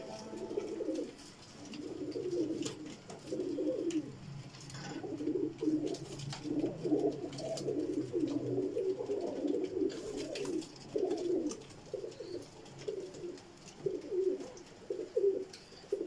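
Rooftop pigeons cooing in a steady run of soft, low, rolling calls that overlap one another, fairly close and continuous with no talk.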